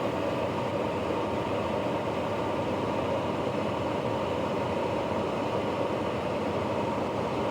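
Sling High Wing light aircraft engine running at 85% power in level flight, heard as a loud, steady, unbroken drone throughout with no talking.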